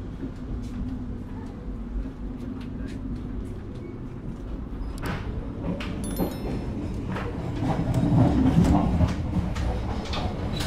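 Interior of the Ambarawa Ekspres passenger train running on rails, a steady low rumble and rattle of the carriage with occasional clicks and squeaks, swelling louder toward the end.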